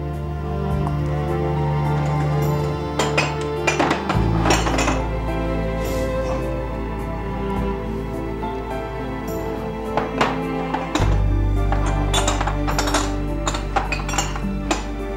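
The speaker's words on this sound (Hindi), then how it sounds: "पहले तुम डिशवॉशर से बर्तन निकाल दो, इसके बाद कप्स और प्लेट्स को तुम कबर्ड में रख देना।" Dishes, cups and plates being unloaded from a dishwasher and put away in a cupboard, with repeated clinks and clatters of crockery over a steady low background hum.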